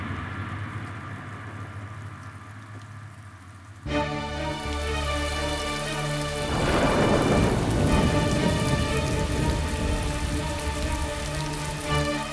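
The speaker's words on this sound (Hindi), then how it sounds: "बाहर एत जोर वर्षा होची" Heavy outdoor rain pours steadily with loud rumbling thunder, surging into a sustained roar over a dense wash of falling water, with no voices.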